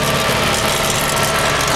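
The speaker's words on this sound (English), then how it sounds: "That's the tractor." A farm tractor pulling a Kinze planter idles close by in a field, its engine giving a loud, steady rumble throughout with no pauses and no voices.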